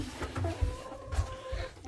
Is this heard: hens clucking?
yes